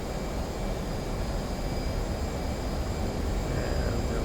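A bomb-laden aircraft in a flight game rolls for takeoff from Sochi Adler airport, its engine giving a steady, dense roar with a faint whine above it that holds unchanged throughout.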